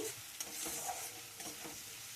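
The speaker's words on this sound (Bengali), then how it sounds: "আমি তেলের মধ্যে দেখুন একটু মশলাটাকে একটু কষিয়ে নিচ্ছি" Spice paste being stir-fried in oil for an egg curry: a close, steady sizzle with soft scraping stir strokes and light pops, no voices over it.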